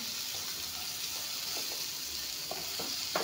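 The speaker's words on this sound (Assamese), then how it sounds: "পটল ভাতকেৰেলাখিনি ধুনীয়াকৈ ভাজি লৈ ল'লোঁ। জুইটো একেবাৰে কমাই দিছোঁ।" Pointed gourd and bitter gourd frying on a low flame, a steady even sizzle close by with a few soft taps and pops near the end.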